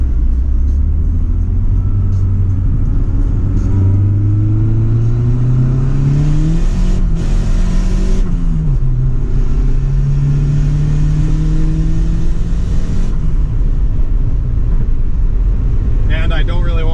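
A Honda Del Sol with a turbocharged D16Z6 engine and no dump tube on the wastegate accelerates hard. The loud, close engine note climbs in pitch, drops briefly and rises again under a constant rumble.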